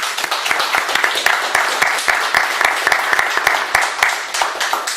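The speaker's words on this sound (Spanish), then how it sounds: "¿Usted puede hacer un aplauso al doctor Biagos?" An audience at a book presentation on business chambers applauds a doctor: sustained, dense clapping from a sizeable crowd, even and close, with faint voices mixed in.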